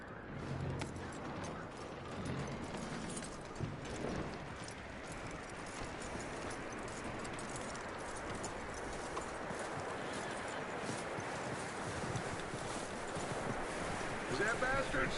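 Horse hooves clip-clop steadily in Red Dead Redemption 2, a continuous close rhythm under a dense bed of game ambience, with voices talking over it.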